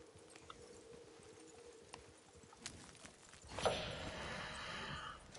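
Faint, sparse horse hoof clops in Red Dead Redemption 2 sound at first, then a louder rush of movement and rustling swells in near the end, with no talking.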